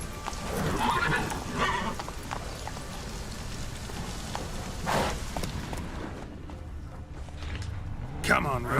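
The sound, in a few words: Geralt's horse Roach trotting in The Witcher 3 video game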